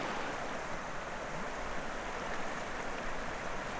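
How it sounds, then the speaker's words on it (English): Steady, full-band rush of a deep glacial river below the Sólheimajökull glacier, loud and continuous with no breaks and no voices. "The river is way too deep."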